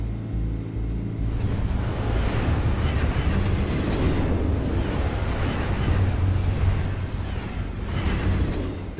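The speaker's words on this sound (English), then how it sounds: "That is the most futuristic train I've ever seen." A futuristic train in a Batman video game rushes past, a loud sustained roar and rumble that swells and surges across several seconds after a brief lower hum at the start.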